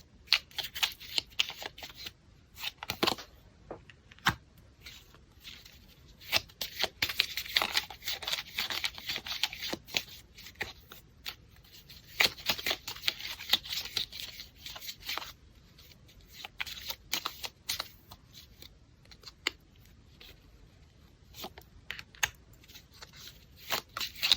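Tarot cards being shuffled by hand in a close, quiet setting, producing a long run of soft papery riffles, flicks and crisp snaps in irregular bursts with no talking.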